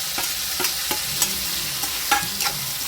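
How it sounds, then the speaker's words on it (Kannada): Garlic and cumin fry in hot oil for a North Karnataka red chutney, giving a steady close sizzle broken by a few sharp stirring scrapes, with no voices. "ಚಂದಾಗ ಹುರ್ಕೋಬೇಕು"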